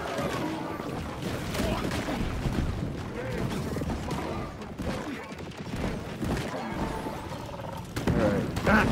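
Barrage explosions in a video game, a dense run of booms, cracks and rattling impacts throughout with a heavier hit near the end, voices talking over them.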